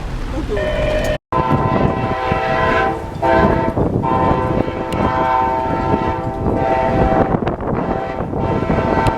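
Amtrak 91 passenger train roaring past close by near Bradenton, Florida, a loud continuous rumble of wheels and cars with its horn blaring repeatedly over the top, nearly throughout.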